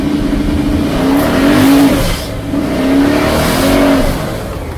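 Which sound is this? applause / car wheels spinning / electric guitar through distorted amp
car wheels spinning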